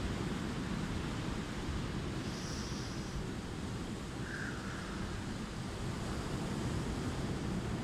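Ocean waves wash in a steady, faint broadband hiss, a continuous surf roar with gentle swells and no voices.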